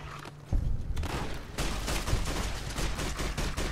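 Gunfire in the modded game Fallout: New Vegas, with rapid overlapping shots forming a sustained rattling volley that begins abruptly after a brief quieter moment and continues steadily, without speech.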